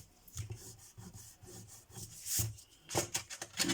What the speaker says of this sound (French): Alors, on va gommer.